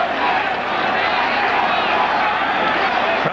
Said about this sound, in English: Crowd has been in this game all night.